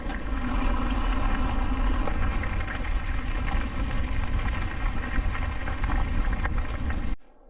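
Steady rushing wind in pine trees roars throughout, broad and constant, then cuts off abruptly near the end; no voices.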